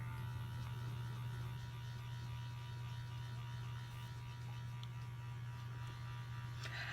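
AcneFree Sonic cleansing brush buzzing on its low setting during a face wash, a steady low electric hum with a faint buzz that runs continuously and quietly without a break.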